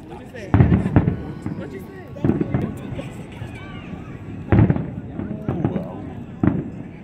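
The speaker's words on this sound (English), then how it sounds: "the fireworks." Sharp July 4th fireworks bursts pop and crackle at irregular intervals, somewhat distant, over Arlington, Virginia, while people chatter and react in the background.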